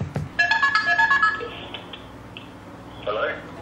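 A phone call rings out in a series of bright electronic ringtone chirps, loud at first, then fading into quieter tones with a brief later burst, while a person talks over parts of it.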